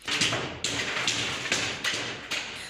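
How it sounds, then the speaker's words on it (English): Construction works right outside an office door in Harambee House, where the rest of the floor has been flattened: a run of loud, repeated knocks and thuds at an irregular beat, about five or six blows, close by. "struggles to be heard above the din of ongoing construction works right outside her office door"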